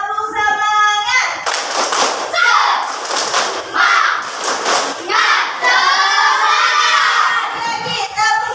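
A primary school class stands and does a rhythmic spirit clap, bursts of sharp unison clapping alternating with children shouting and chanting in chorus, loud and close in a classroom.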